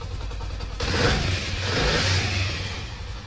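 A Honda 70 motorcycle engine revs up and holds a loud, rough roar before easing slightly, close by with no voices.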